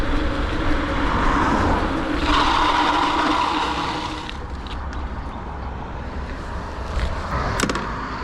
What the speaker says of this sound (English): I'm gonna pedal as fast as I can, hopefully get it close to 28, and then slam on the brakes at that yellow sign